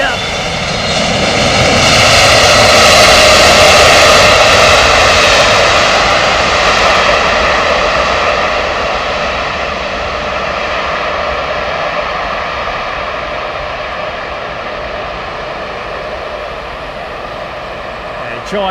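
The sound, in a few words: Saudi Arabian Airlines Boeing 777-300 jet engines powering up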